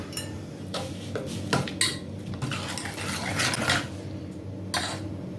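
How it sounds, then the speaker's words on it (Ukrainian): Butter and condensed milk being whipped into a cream in a bowl, irregular clattering and scraping of a utensil against the bowl, fairly close, with no talking. "І тепер ми наш крем зіб'ємо."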